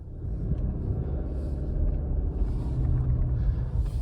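A car on Michelin X-Ice snow tires accelerates over snow, giving a steady, close, low engine rumble mixed with tire and road noise throughout, with no talking.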